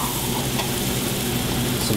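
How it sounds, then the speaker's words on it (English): Garlic sizzles in a hot pan for fried rice, a continuous close crackling hiss with no pauses or voices. "Hot pan. Let's make some fried rice."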